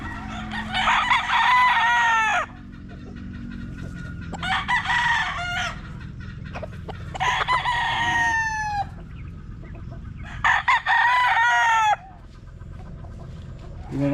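Young roosters (stags) in a barn crow repeatedly in long rising bursts, several calls in a row, with clucking and background farm noise between them; no talk is heard.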